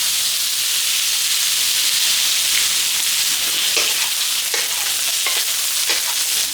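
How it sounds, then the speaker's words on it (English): Cucumbers stir-frying in an oiled pan give a steady, loud sizzle and hiss, with occasional scraping stirs breaking through near the close. "So basically we're just giving the cucumbers a little pan sear."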